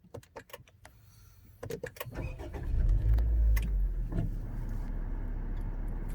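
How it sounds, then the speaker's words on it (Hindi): A 2018 Honda Civic is started after a few nearby clicks and thumps, and its engine settles into a low, steady idle heard close by. "अब ये कार मैंने ऑफ़ कर दी है और मैं इसको दोबारा से ऑन करने लगा हूँ।"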